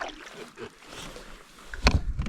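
Canoe paddled on Sletten Lake, with soft paddle strokes and water swishes near the boat, then a louder splash and knock toward the end.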